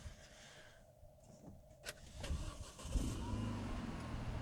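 A 2004 Renault Megane 225 engine cranks and fires after sitting unused, a quiet whir and click giving way to a rising low rumble as it catches and settles to idle.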